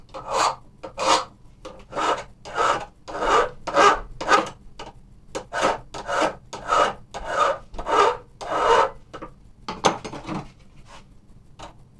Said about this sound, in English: maybe I'll use a file.